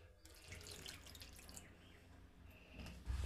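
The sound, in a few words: water poured into khaman batter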